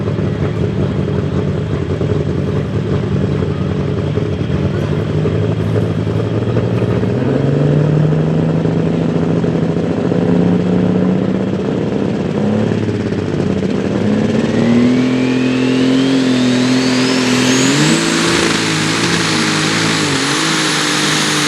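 A fuel-injected, turbocharged Super Pro class pulling tractor at a 2025 tractor pull in Boonsboro roars loud and close, its engine revs climbing steadily higher with no one talking.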